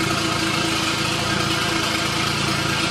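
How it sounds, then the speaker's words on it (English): A Mercedes 300TE engine idles steadily after a cold start, having sat unused for a week, a constant loud droning hum with a low pulsing throb and no talk. "That's the cold start, hasn't been started in a week."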